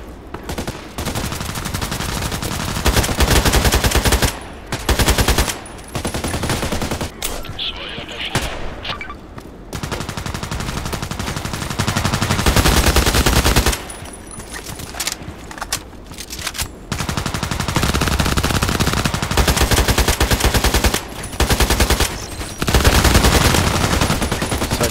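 AKMS rifle fire in the online shooter Contract Wars: sustained loud automatic bursts with brief pauses between them, near and dominant, with a player talking intermittently underneath.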